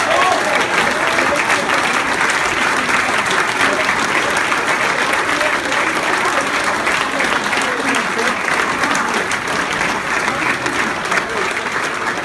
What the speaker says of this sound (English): I want you to all cheer and give a clap to Colin Farmer.